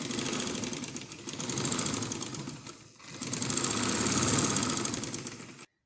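A sewing machine stitches a baby frock with lace, its rapid needle chatter running in two loud, close bursts separated by a brief pause, then stopping abruptly.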